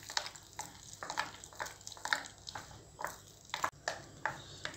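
Jackfruit seed bonda batter being stirred and mixed in a bowl, quiet, rhythmic scraping strokes repeating about once a second, close and soft.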